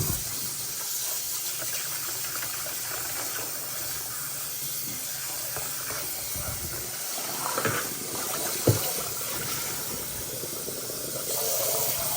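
Tap water runs steadily into a sink as cooking items are washed, a continuous hissing stream with a few soft knocks of utensils, no voices.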